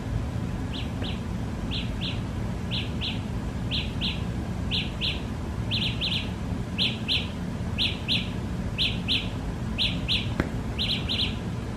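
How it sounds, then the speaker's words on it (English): Samsung Gear IconX earbuds sounding a find-my-gear alert: pairs of loud, high-pitched electronic chirps repeating at a steady rhythm over a low background hum. "what they're doing is they're making a chirping noise, and it is actually pretty loud"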